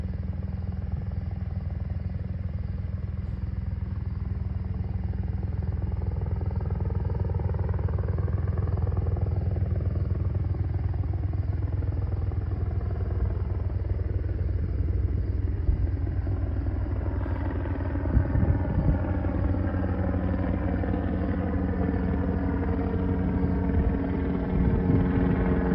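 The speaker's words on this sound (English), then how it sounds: "That Chinook is back, dude. You hear those blades?" A large Chinook helicopter flies overhead at night, its tandem rotors producing a steady low throbbing rumble that holds for the whole stretch and swells slightly louder toward the end, with no talking.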